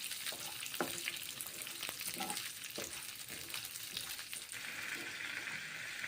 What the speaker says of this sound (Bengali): তারপর মুসুরির ডালগুলো তেলে ভেজে নিচ্ছি